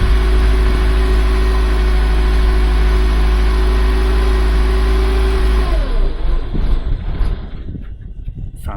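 Toyota MR2 engine idling steadily and loud, then faltering and dying away as it stalls, leaving near silence.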